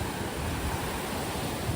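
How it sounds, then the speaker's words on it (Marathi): Sea waves break and wash onto the shore at Malgund beach on the Konkan coast, a steady, dense roar of surf with no pauses and no voices. "ह्या लाटा किनाऱ्यालगत येऊन फुटतात"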